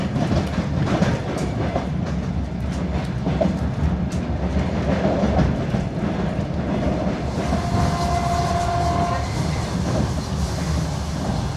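A train rolls past Dūkštas railway station, heard from on board as a continuous rumbling roar with rhythmic clickety-clack of wheels over rail joints and a brief high squeal late on, without speech.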